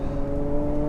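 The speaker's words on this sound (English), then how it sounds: "Need to just wait for the engine to warm up a little bit." A Ferrari engine idling as it warms up, a steady low droning rumble with a constant hum, close and even throughout the short stretch.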